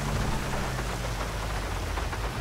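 Heavy rain falls steadily in Grand Theft Auto V, a dense, constant hiss of drops on surfaces with no pauses and no talk.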